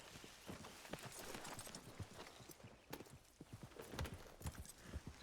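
Horse hooves clip-clop steadily in a role-play video game, a quick, even rhythm of soft thuds at moderate distance over a faint, airy background with no talking.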